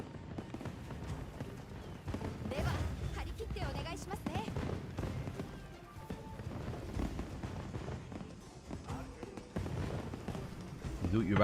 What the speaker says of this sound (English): Do the fireworks ever stop?